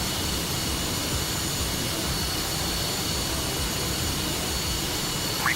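Steady roar of a MiG-28 jet engine in an aerial combat video game, a constant broadband rush holding at an even level throughout with no talk.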